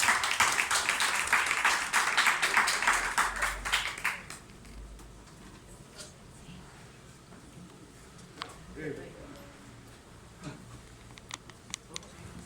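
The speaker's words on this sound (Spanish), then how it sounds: "Un aplauso para él" An audience at a Jorge Luis Borges birth commemoration in Panama applauds a musical performer, with loud dense clapping for about four seconds that then drops off into quiet room noise and a few scattered claps.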